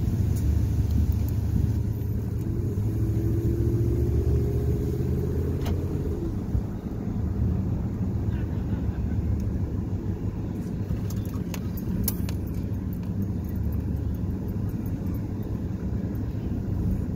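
A 2003 truck engine runs while driving, with a steady low rumble and road noise throughout, loud and close, with faint rattles and no talking.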